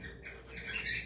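Pet birds kept at home give a brief, close squawk and chirp, bright and harsh, with no talk over it.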